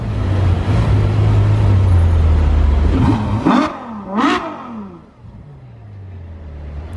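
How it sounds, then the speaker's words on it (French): A supercar outside a hotel in Juan-les-Pins revs its engine hard in two sharp bursts over a steady idle rumble, the roar swelling and falling away before settling back to a low idle. "A lâché un revs gratuit devant nous."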